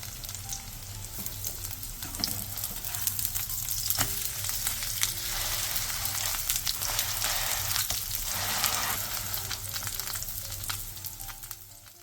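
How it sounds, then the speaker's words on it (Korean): Spring cabbage leaves coated in batter sizzle steadily in oil in a pan over medium-low heat, with a constant crackling hiss and faint pops throughout. "팬에 기름을 두른 뒤 반죽물을 묻힌 봄동을 서로 살짝 겹치게 놓고 중약불에서 앞뒤로 노릇노릇하게 붙여주세요."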